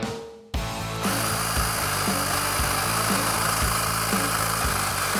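Battery-powered hedge trimmer starting up after a brief quieter moment, then a loud steady electric motor buzz with rapid rhythmic blade chatter running continuously, close and without talk.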